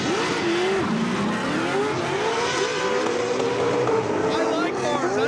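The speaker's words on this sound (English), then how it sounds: "This is the loudest car on grid." A loud drift car on the starting grid at a night drift event, its engine droning and revving steadily throughout while people talk over it nearby.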